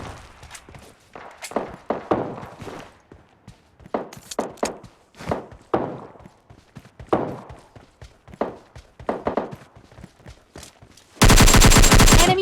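Bursts of gunfire in PUBG Mobile Lite, rapid automatic volleys and single shots in uneven clusters, ending in a loud, sustained roar of continuous fire.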